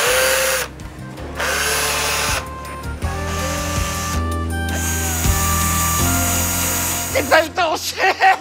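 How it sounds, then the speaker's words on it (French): Electric drill whirring in repeated bursts, its motor whine rising and holding at different pitches between short pauses, with voices talking over it. "Mais vous avez une perceuse dans la main?"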